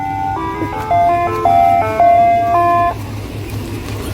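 An ice cream truck rolling through the woods plays a bright chiming jingle of stepped tones. The loud, clear tune ends partway through, leaving low engine rumble and background noise.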